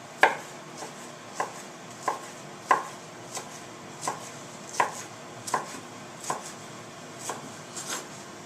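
A knife dicing beef fat for rendering on a board, about a dozen evenly spaced crisp chops near and clear, each a sharp tap with a faint thud, over a quiet background with no talking.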